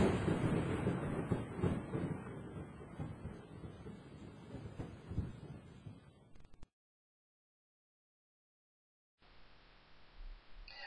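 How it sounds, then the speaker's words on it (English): A low, rumbling roll of thunder that fades out, then silence, followed by a faint steady hiss like rain. "we hear that explosion as thunder"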